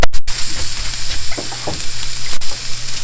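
Steak seasoned with Montreal steak spice sears in a hot pan, hissing in a loud, close, continuous sizzle broken by brief scraping stirs and shifts of the meat.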